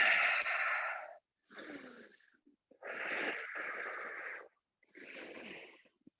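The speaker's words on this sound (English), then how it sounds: "We're breathing." Deep, audible breaths during yoga practice, long airy inhales and exhales in four distinct phrases separated by short pauses, close and somewhat wheezy.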